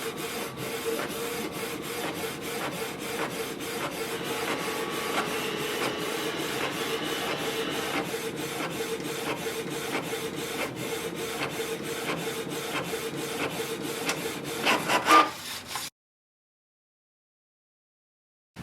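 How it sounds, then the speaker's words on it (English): A Canon PIXMA TS3725 inkjet printer whirs and clatters steadily for about fifteen seconds while copying a page, its mechanism buzzing with repeated clicks before stopping abruptly into silence. "Printer has started to work. It's doing the copy."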